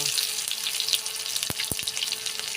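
Cumin seeds and chopped onion frying in hot oil, a bright crackling sizzle heard close, with a few low thumps near the end.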